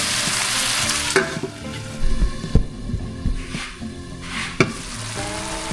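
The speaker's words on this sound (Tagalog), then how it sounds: "I-steam lang muna natin yan. Pakuluan natin yung alimango." Crab simmering in coconut milk in a cooking pot, a continuous bubbling sizzle with a few sharp clanks and knocks from a utensil against the pot.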